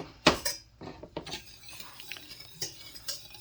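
A spoon stirs half a cup of xylitol in a pan over medium-low heat, making quiet, scattered metallic scrapes and clinks with a sharper knock near the start.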